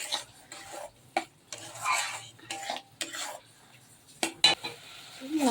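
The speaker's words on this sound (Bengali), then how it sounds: "ভালো করে মশলাটাকে একটু কষিয়ে নিচ্ছি" A spatula scrapes and stirs spice paste sizzling in a pan for a Bengali fish and potato curry, the rhythmic clinking strokes close and continuous over a soft frying hiss.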